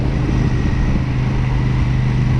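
Steady, loud engine drone from a Royal Enfield Super Meteor 650 motorcycle cruising at an even pace, with rumbling low tones and constant wind-like noise.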